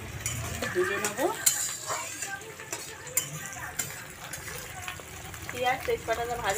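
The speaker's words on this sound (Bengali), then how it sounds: "পেঁয়াজ তেজপাতাটা ভাজা হচ্ছে" Onion and bay leaf fry in a hot wok, a steady sizzle with stirring scrapes and clinks of utensils, while a person talks over the cooking.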